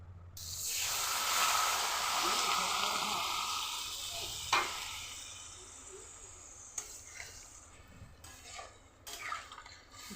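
Curry being sautéed in a pan gives a steady, fairly loud sizzle and hiss that slowly fades, broken by a few sharp stirring scrapes toward the end.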